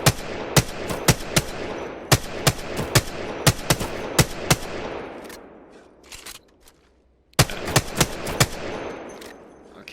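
Rapid bursts of gunfire from weapons in the video game Apex Legends, sharp repeated shots in quick volleys that pause briefly, then resume loud and close.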